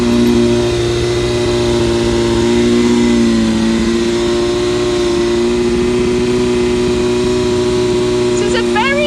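A heavy motorbike engine runs close and loud with a strong steady tone that rises and dips slightly as it is revved, while a voice speaks over it.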